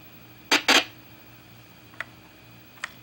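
Garbled sound from a gambling game on a Commodore SX-64, a few short clicking, ticking blips, a close pair followed by two fainter isolated ones over a quiet hum.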